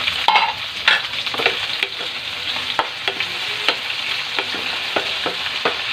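Button mushrooms fry in a pan with a bright, steady sizzle, punctuated by repeated clinks and scrapes of a utensil stirring them, close and fairly loud with no talking.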